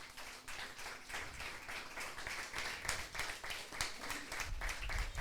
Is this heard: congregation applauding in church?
yes